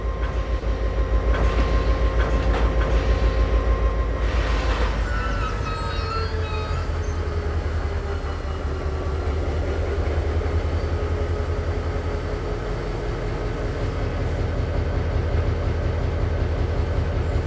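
Cargo train locomotive hauling freight wagons during shunting in Train Simulator, with a steady loud low rumble and rolling rail noise throughout, a brief horn-like tone early on, and no talk.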